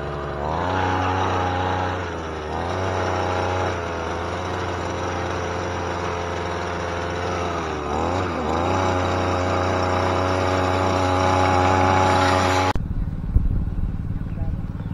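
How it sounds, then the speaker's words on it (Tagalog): Grass cutter engine running at a steady drone with slight pitch dips, loud and close for about thirteen seconds before cutting off abruptly; speech is mixed in. "ayan na nga yung ating grass cutter."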